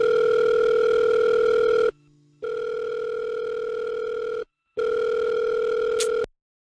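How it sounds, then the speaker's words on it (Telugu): An unanswered outgoing phone call rings as steady electronic tones, with three long beeps separated by short silences, clear and alone. "మా ఆవిడకి కాల్ చేసుకుంటా."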